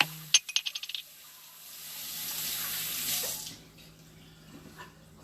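Tap water runs steadily into a sink while hands are washed, a smooth hiss that swells and then tapers off, opened by a quick burst of small metallic clinks.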